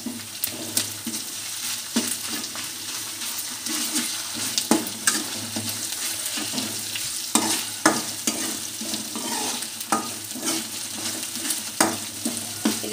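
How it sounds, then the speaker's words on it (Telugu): Onions sizzle in hot oil with ginger paste while a utensil stirs and scrapes the pan, a steady close frying hiss punctuated by frequent irregular clinks and scrapes, with no talk. "ఇది కొంచెం పచ్చి వాసన పోయేదాకా బాగా ఆరెంజ్ కలర్ వచ్చేదాకా వేయించుకోవాలి ఆనియన్ గిట్లా."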